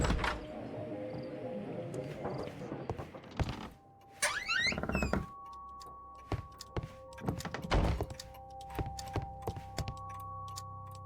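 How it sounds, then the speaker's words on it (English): Key turning in a lock in a Sherlock Holmes detective game: sharp mechanical clicks and thunks, with a brief rattle of metal, followed by quiet scattered taps over a faint background hum. "Mr. Butler's key matches the lock perfectly."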